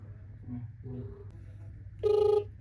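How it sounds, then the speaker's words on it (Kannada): Telephone tones sound during a call being dialed, with faint background noise before a loud, steady electronic tone near the end. "ನಮ್ಮ ಹುಲಿಗೆ ಫೋನ್ ಹಚ್ಚಿನಿ ಎರಡೆರಡು ತರ"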